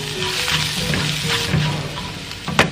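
Steady sizzle of garlic sautéing in a pan, moderately loud, with a faint low hum and a sharp clink near the end.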